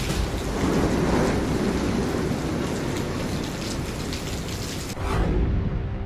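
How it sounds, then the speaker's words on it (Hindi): Heavy, steady rain pours down ahead of Cyclone Yaas in Odisha, a dense continuous roar with a deeper rumble beneath and a brief shift near the end. "तूफान की आहट के साथ आफत की बारिश"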